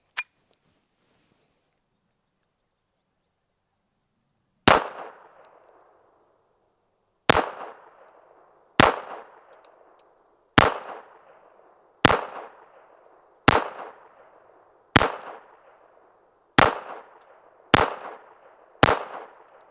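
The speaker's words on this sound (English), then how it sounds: "Let's try another mag of those auto matches." A Retay Arms RXP 22 pistol firing auto match ammunition outdoors: one shot, a long pause, then about ten sharp single shots spaced a second or two apart, each cracking loudly and fading quickly, no talking.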